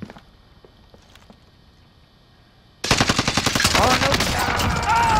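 Video game gunfire suddenly erupts after a quiet stretch of faint ticks, a loud, rapid automatic burst of shots continuing to the end, with a brief exclamation heard beforehand.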